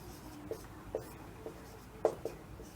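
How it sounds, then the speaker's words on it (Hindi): Marker or chalk writing on a board during a Class 10 trigonometry lesson, heard as a series of light, sparse taps and short strokes at a steady pace, close by and fairly faint. "इसको मैं लिखता हूँ"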